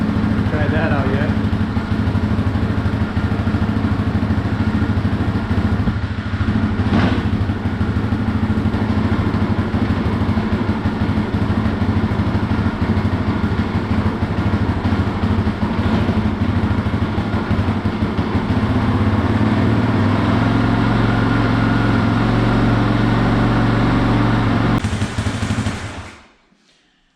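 A Yamaha Raptor 350 ATV engine runs continuously, a loud rough low-pitched rumble with rapid popping pulses that hold steady for about 25 seconds before cutting off abruptly; voices talk faintly beneath it.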